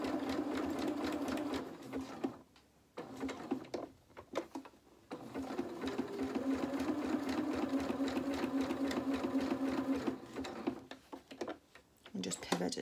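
A sewing machine runs a zigzag seam on fabric for a T-shirt dress, humming in close, steady bursts with brief stops between runs.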